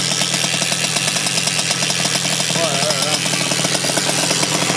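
A 1988 motorcycle engine runs steadily at its first start after a kick-start, a continuous mid-pitched idle with a busy mechanical rattle, close by and loud, while people talk over it.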